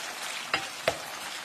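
Homemade pork tocino fries in its own rendered fat, giving a constant bright sizzle and crackle with two brief sharp pops, close and with no talking.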